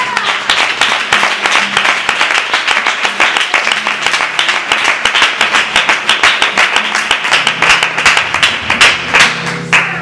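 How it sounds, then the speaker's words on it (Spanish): A church congregation gives sustained rhythmic applause during an evangelical sermon, loud and close, many hands clapping in a steady even beat for about ten seconds without talk. "Dar un aplauso al Señor en esta tarde."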